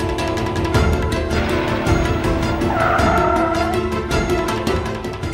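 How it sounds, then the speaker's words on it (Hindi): A car's tires squeal and skid loudly as it brakes hard to a sudden stop, the screech running continuously for several seconds with no speech over it. "अंशुमन जी, हमने कहा कार रोकी।"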